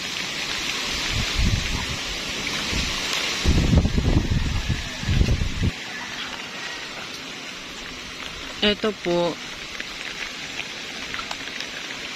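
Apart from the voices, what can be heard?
heavy rain falling on garden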